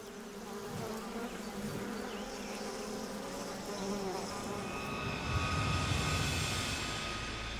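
A swarm of wasps buzzing loudly and continuously all around, a dense layered drone with no pauses.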